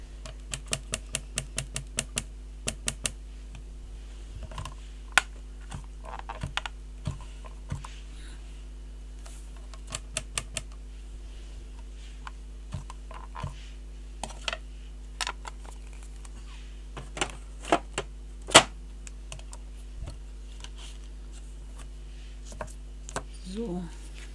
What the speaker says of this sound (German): So, hier ist mein Embossing-Stempelkissen. Und dann tippen wir mal.